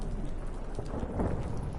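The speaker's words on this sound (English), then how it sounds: "Didn't bargain for no storm." Rain and thunder fill a brief moment of a storm: a steady dense hiss of rainfall with a low rumbling swell beneath, no voices.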